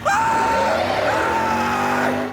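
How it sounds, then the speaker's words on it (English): A sustained, loud scream holds for about two seconds in a cartoon scene before cutting off abruptly. "Oh, quit your screaming."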